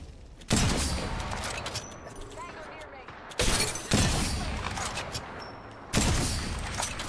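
Sniper gunfire in Apex Legends, three loud, sharp cracks spaced a few seconds apart, each trailing into rumbling echo over steady in-game ambience.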